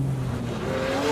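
A 1,000-horsepower car with a locking rear differential understeers into a corner, its engine droning steadily with a rising tone and tyres scrubbing, loud and close throughout.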